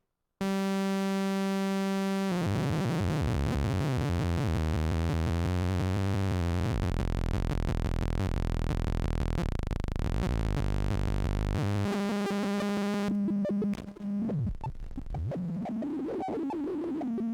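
A Rob Papen Predator 2 synthesizer tone using a thin MS-20 pulse wave steps randomly between pitches in a buzzy pulse, jumping irregularly from one level to the next, loud and continuous.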